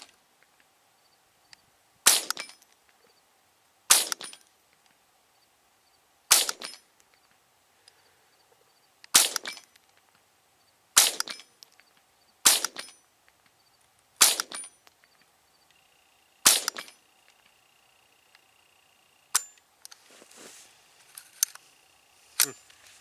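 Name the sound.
Savage 64 Takedown rifle shots hitting steel targets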